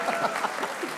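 A short burst of applause for Rashid Latif rises in a studio discussion, a brief patter of clapping hands fairly close, with a voice murmuring faintly underneath.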